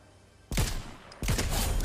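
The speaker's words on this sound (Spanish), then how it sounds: "Disparos allí al fondo," Two bursts of rapid gunfire from Fortnite, about half a second apart, each a loud dense crackle that fills the moment and then drops back to quiet game ambience; no talk over them.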